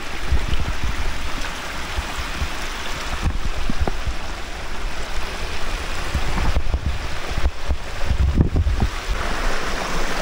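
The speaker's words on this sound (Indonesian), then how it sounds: "Air sungai doang. Sungai biasa." Water of an ordinary river on a mountain hiking trail rushes steadily and fairly close, a continuous broadband wash with some wind buffeting the microphone and a few brief knocks near the end.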